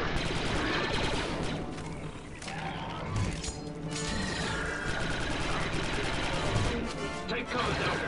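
Dense, continuous blaster fire fills a Star Wars: Republic Commando battle, its rapid crackling shots blending with explosions and a loud battlefield wash. Voices sound intermittently over the din.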